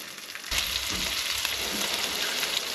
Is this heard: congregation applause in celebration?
no